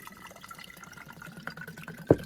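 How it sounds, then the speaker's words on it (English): Tea is poured into a bottle while making homemade kombucha, a quiet liquid trickle over faint room noise that ends with a sharp clink. "I'm gonna pour some of the tea into this bottle."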